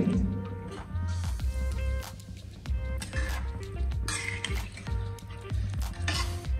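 A spoon stirs wet masala khichdi of rice, toor dal and water in a pot, producing close squelching sloshes and occasional metal scrapes in an uneven, repeated rhythm.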